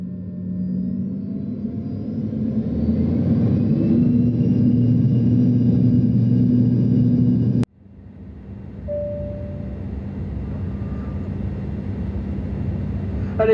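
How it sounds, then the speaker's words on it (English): Inside a passenger airliner cabin in flight, a steady loud engine drone and low rumble fill the space, briefly cut by a sharp click before the constant hum resumes with faint tonal chimes. "one of the flights I took it on, I recorded the takeoff,"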